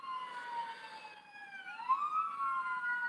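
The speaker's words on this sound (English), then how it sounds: "So as soon as this police car goes by" Police car siren wailing as it passes by, its rising and falling tone sweeping and bending in pitch, moderately loud and clear against a quiet background.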